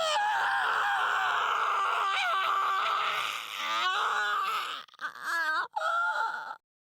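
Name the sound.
scream in the video game Steins;Gate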